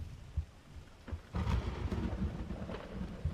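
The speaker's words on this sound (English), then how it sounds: "Oh, it's raining." Rain and rumbling thunder in a creepy video game, low rolling thunder swelling midway over a soft steady patter, fairly quiet throughout.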